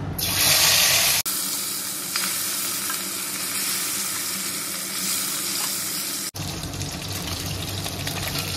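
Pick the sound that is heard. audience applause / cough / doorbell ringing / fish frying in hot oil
fish frying in hot oil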